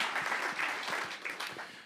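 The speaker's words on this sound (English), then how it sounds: "that's worth a round of applause" An audience applauds at a mayor's State of the City address in Albany, a steady wash of many hands clapping that gradually tapers off, heard at moderate distance.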